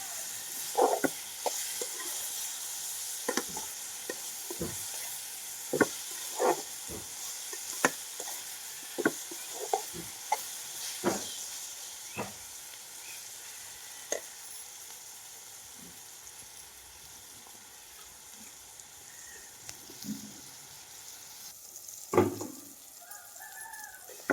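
Onions and green chillies frying in a pan, a faint continuous sizzle broken by sharp scraping stirs and clicks, with a rooster crowing in the background.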